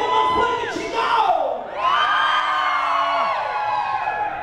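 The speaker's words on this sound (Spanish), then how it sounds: "A ver, un grito de todas las chavitas. ¡Cómo más fuerte, chingado!" A concert crowd of women at a show in Portland, Oregon, shouting and cheering loudly in a sustained burst of high voices, with rising whoops trailing off.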